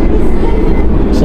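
Steady low rumble of a Gajah Wong economy-class passenger train carriage in motion between Yogyakarta and Jakarta, a dense continuous drone with faint rattling, heard from inside.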